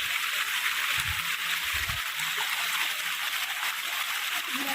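Flood water from the Katakhal river in Assam rushes over a paved road in a steady, close, broadband roar, with faint low sounds briefly beneath it.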